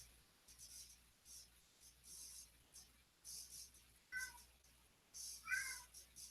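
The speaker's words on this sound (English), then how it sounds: "And of course, my cat's still crying out there." A house cat meows twice from behind a closed door, the cries faint and muffled beneath a low steady room hum, with quiet scratchy sounds of brush or pen work nearby.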